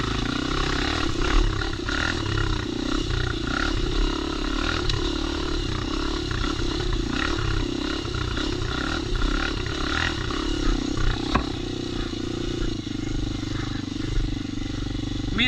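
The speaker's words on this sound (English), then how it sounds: "I'm using a lot of the engine brake on this little bike too." A 2022 Kawasaki KLX230R dirt bike engine braking, its exhaust giving a steady, loud, rough rumble that stays close and continuous throughout, with wind noise mixed in.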